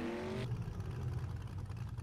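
A BMW engine in the survival video game 7 Days to Die drones and whirs steadily, with a rising pitch at the start before settling into a continuous low hum, no talking.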